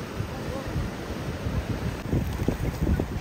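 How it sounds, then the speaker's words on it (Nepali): Rushing river water and churning waves close by, blended with wind noise buffeting the microphone, a continuous rough roar without talk. "यहाँ चाहिँ एकदमैसँग छाल आएको अवस्था"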